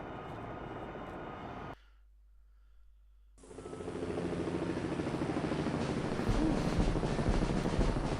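A helicopter engine in the Jane's Longbow flight game hums steadily. It cuts out briefly, then returns as a sustained, broadband drone that slowly grows louder.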